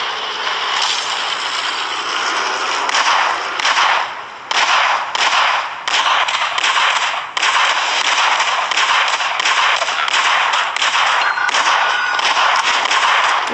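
Gunshots in the cartoon battle royale game Battlelands Royale, a long run of sharp, snappy cracks fired in quick rhythmic bursts, loud and close, with brief pauses between strings. Nobody speaks.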